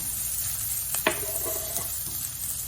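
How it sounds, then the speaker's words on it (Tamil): Crushed garlic and small onions sauté in a pan for an okra stir-fry, a steady close sizzle broken by a couple of light spatula scrapes and clinks against the pan. "பூண்டு போட்டு ஒரு 2 நிமிஷம், 1 நிமிஷமாவது 2 நிமிஷமாவது போட்டு வதக்கினா போதும்."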